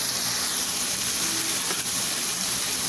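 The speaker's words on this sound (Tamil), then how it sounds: "நல்லா ஹையிலே வச்சு எல்லாத்தையும் வதக்கிக்கலாம்." Chopped vegetables for vegetable fried rice sauté over high heat in a pan, producing a steady, even hiss with faint crackle that holds at a constant level throughout.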